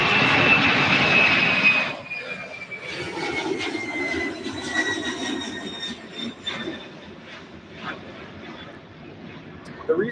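Boeing 767-300 jet aircraft at an airport, a loud broad engine roar that shifts after a couple of seconds into a sustained rushing whine with a descending tone, steady throughout.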